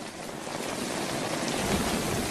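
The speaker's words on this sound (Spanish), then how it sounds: "hay lluvias torrenciales durante un mes" Heavy rain pours down in a dense, continuous roar, steady and enveloping with no pauses.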